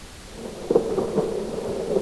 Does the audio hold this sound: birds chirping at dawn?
no